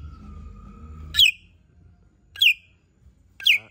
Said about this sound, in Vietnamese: Mình mới về thêm được hai em nhồng nha